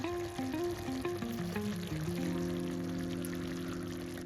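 Homemade masala spices go into chicken frying in a pan, giving a steady sizzle with faint stirring beneath sustained tonal music.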